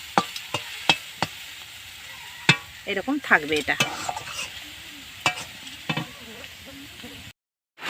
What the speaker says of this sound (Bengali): একদম সিম্পলভাবে শাক ভাজা দেখো